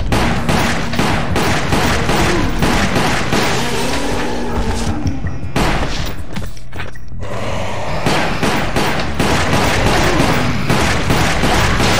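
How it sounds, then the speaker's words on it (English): Loud, dense explosions and gunfire in the video game Resident Evil: The Umbrella Chronicles, with rapid repeated blasts and booms filling the scene, a brief lull midway, then the barrage resumes. "Explosion to our advantage."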